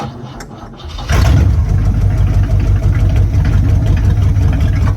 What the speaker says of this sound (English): That motor is idling.